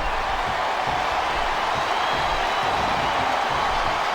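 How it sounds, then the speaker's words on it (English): Steady crowd roar from a capacity arena audience in the WWE SmackDown vs. Raw 2007 wrestling video game, a continuous, even wash of cheering and noise with no distinct voices standing out. "This capacity crowd is making their opinions known tonight."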